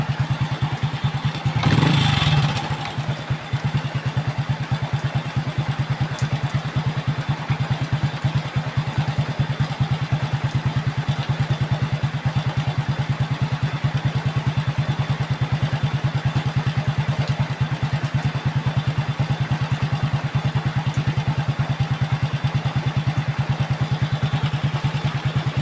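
A repaired Honda XRM motorcycle engine idles steadily and close by, with a steady clattering pulse, after a brief louder burst near the start.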